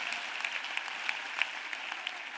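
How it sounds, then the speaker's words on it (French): A church congregation claps for Jesus Christ in a dense, continuous patter of many hands, steady and moderately loud, with no voices. "Let us clap for Jesus Christ."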